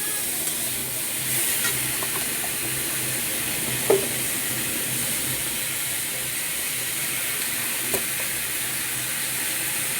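Ginger and garlic paste fries in a pan while fish and yardlong beans are cooked, a steady broad sizzle with two sharp clinks of a utensil against the pan; no talking.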